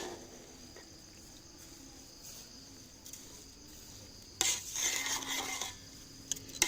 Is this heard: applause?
no